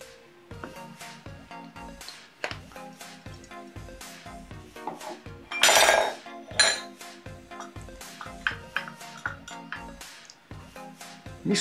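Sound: stirring catuaba caipirinha in glass

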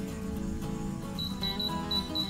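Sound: Hamilton Beach breakfast sandwich maker timer going off

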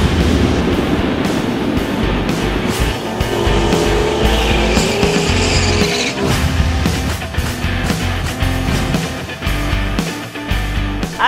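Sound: 2013 Ford Shelby GT500 Mustang at the dragway

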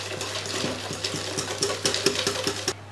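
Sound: pouring milk and chocolate mixture onto eggs

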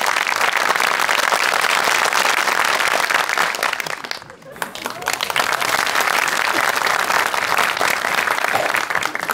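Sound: studio audience applause

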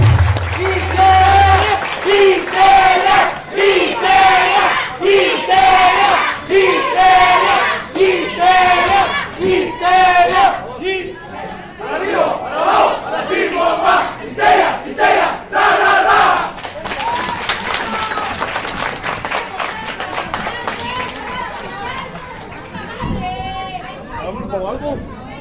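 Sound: crowd applauding and cheering at a wrestling arena

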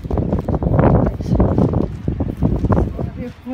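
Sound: wind

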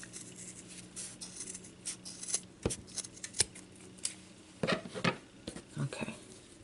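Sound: scissors cutting ribbon for craft nests

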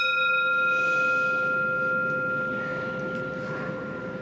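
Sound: bell ringing

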